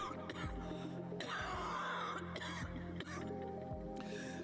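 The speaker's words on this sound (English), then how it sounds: "She breaks into another cough and collapses to one knee." A few rough coughs and throat-clearing sounds over a steady background hum, fairly close and strained.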